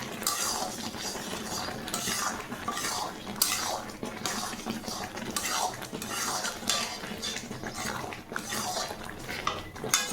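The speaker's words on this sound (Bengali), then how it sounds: "বিট লবণ আর ভাজা মশলাটা দেওয়ার পর এটাকে ভালো করে নেড়ে নিতে হবে" Sweet mango pickle being stirred with beet salt and roasted spices, repeated quick metal scrapes and clinks of a spoon against the pot, fairly faint, with a voice speaking intermittently.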